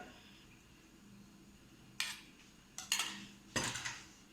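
Biscuit crumbs are stirred into melted butter in a bowl for a cheesecake base, giving a few sharp clinks and scrapes of utensil against bowl in short bursts over quiet room tone.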